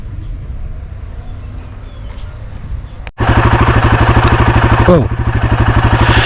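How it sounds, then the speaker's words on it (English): A Royal Enfield Himalayan motorcycle coughs into life after a quiet stretch with a brief word spoken, then settles into a loud, close, rhythmic thumping idle that dips briefly before steadying again. "The bike's up and running."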